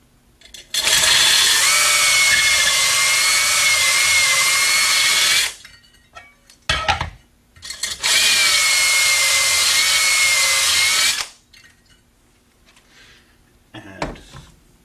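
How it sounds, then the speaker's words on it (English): A power tool hones out the cathode of a 2-inch pressure reaction chamber, running in two long, steady, loud whirring stretches of about five seconds each, separated by brief clatters and handling noises. "If required, hone out the cathode to clear out any debris."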